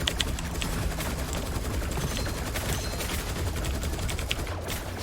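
Rapid automatic gunfire in the shooter game Gunfire Reborn, a dense stream of sharp shots with mechanical clatter, loud and sustained.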